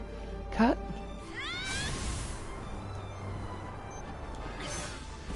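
A cat in Gravity Rush lets out a sharp, rising meow followed by a quicker series of chirping cries, then a fainter call near the end, all over steady game background sound.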